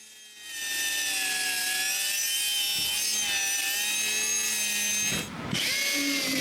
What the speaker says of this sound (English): One of my tasks is to cut those sheets when needed.